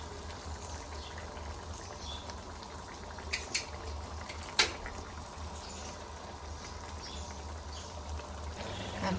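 River pangas fish bhuna simmering under a lid in a pan: a steady, soft bubbling hiss runs throughout, with a couple of faint clinks partway through and no talking.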